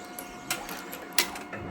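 A computer embroidery sewing machine stitches steadily, a fast continuous mechanical whir with a few sharper clicks and knocks, heard close and alone.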